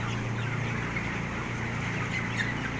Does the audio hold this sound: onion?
no